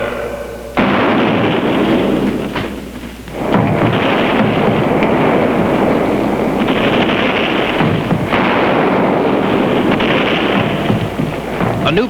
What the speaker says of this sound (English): A new bombardment of the Alamo just started, and everyone is taking cover.